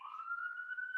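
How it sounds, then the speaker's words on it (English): A police siren wails in a steady, slightly rising tone, faint and distant, alone for about a second. "Siren."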